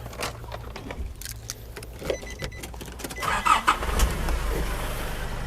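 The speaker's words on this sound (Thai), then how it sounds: "เดี๋ยวผมลองสตาร์ทดูนะครับ สตาร์ทฟังเสียงเครื่องยนต์นะฮะ" A 2011 Nissan Navara Open Cab 2.5 pickup is started close up: keys jingle, the starter cranks briefly, and the engine catches and settles into a steady idle.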